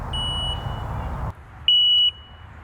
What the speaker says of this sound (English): Now please excuse the beeping